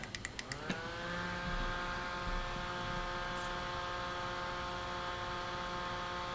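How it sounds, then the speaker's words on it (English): An electric fan runs steadily to dry a watercolor painting, a constant humming whir that starts after a few quick clicks and continues alone at a moderate level. "we can dry this real quick with the fan"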